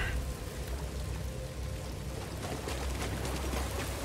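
Steady water pouring and splashing in Star Wars Jedi: Fallen Order, a faint continuous wash with no talk over it.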